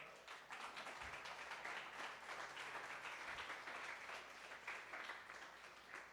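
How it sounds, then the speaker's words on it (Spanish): A church congregation applauds steadily and fairly softly for about six seconds, a dense, even wash of many hands clapping together, with a couple of faint low thumps and no clear talk over it. "Denle un aplauso al Señor."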